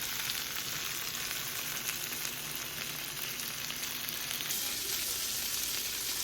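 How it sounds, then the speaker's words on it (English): Chicken pieces frying skin side down in a pan over medium heat, a constant, even hiss of sizzling fat that stays steady and unbroken throughout, with no stirring or voices. "We go skin side down. And once they're in the pan, don't move them."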